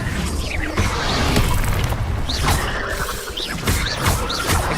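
Incendio fire spell cast in the game Hogwarts Legacy: layered magical whooshes, booming bursts and mechanical clatter, with several rising chirpy flourishes, loud and busy throughout.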